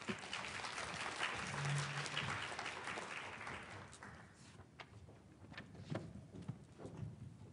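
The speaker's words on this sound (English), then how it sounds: "let's give a round of applause for my team" Audience applause for a presenting team at a panel session of the 2018 AECT Annual Meeting: dense clapping for about four seconds, then thinning to scattered claps and thuds as it fades.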